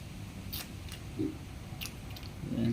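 A piglet on a pig farm drinks water with wet sucking, squishing and gnawing sounds, mostly close and moderate, in short irregular bursts, with louder slurps near the end.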